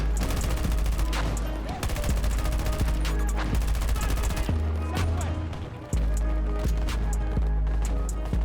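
Bursts of video-game gunfire crackle almost without pause, volleys and machine-gun rattles from enemies shooting at range, dense and loud, layered with a continuous low rumble.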